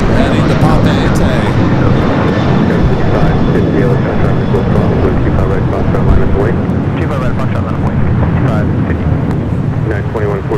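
An Air Tahiti Nui airliner takes off from LAX with a loud, sustained engine roar and a whine through the run, while people talk over the noise, with clicks and crackles from a radio.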